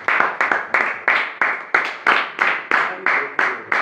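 Rhythmic, synchronised clapping from a church congregation, loud and close, in a regular beat of about three claps per second that continues steadily throughout.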